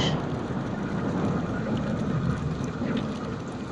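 Storm sound effect of steady heavy rain hissing on a surface with a low rumble of thunder underneath, dense and continuous throughout without any speech.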